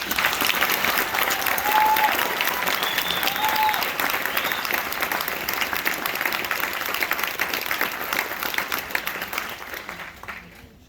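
Sustained applause from a graduation audience honoring a newly pinned hospital foreman, steady dense clapping filling the hall for about ten seconds before tapering off at the end.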